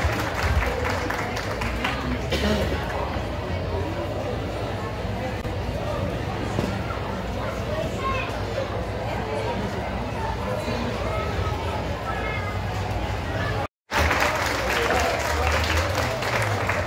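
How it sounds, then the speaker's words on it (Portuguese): An audience applauds at a photo pose during an outdoor event in Tiros, Minas Gerais, clapping steadily for over ten seconds amid crowd chatter and talk, with a brief dropout near the end. "Aplausos públicos."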